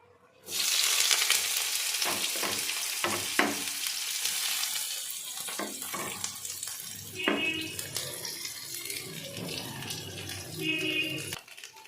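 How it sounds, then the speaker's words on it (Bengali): Onion and green chili frying in a hot wok, a loud steady sizzle that starts abruptly and holds throughout, with occasional clinks and stirring scrapes. "তারপর একটুখানি গরম হওয়ার পর আমি দিয়ে দেবো এই পেঁয়াজ আর কাঁচা লঙ্কা।"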